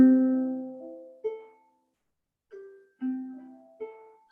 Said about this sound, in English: So when you actually strum the strings open, it makes sounds like this.